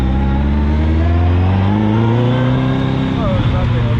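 A Westfield Seven sports car, a Caterham/Lotus Seven-style roadster, accelerates hard with a loud, close engine note rising steadily in pitch through the gears, heard from on board.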